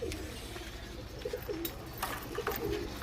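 Soft, faint pigeon coos sound from a loft of flying pigeons, a few short rolling calls spread over quiet background noise with no talking.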